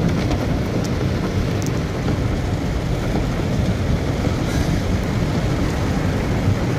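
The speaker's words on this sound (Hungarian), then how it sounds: "Hát esik az eső." Steady, dense rain pours down continuously, a loud even hiss with a low rumble that may be distant thunder, with no talking over it.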